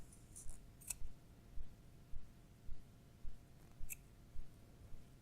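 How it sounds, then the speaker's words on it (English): Scissors snip through the string padding loops used for goldwork hand embroidery, giving about nine small, evenly spaced clicks close at hand, quiet and steady. "So cut through all the loops on both ends."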